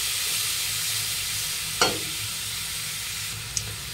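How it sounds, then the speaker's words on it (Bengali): Prawns fry in a little oil with a steady, close sizzling hiss that runs throughout, broken by two brief sharp scrapes of a utensil, with no voices. "এবার আমি চিংড়ি মাছগুলোকে ভাজতে দিয়ে দেব।"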